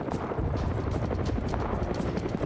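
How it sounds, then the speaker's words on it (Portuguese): A helicopter in the military game Arma 3 chops close overhead, a loud rhythmic rotor thumping that pulses steadily through the whole moment. "Aí lá vem Sonic e Márcio com o helicóptero em cima da missão pra espotar a gente."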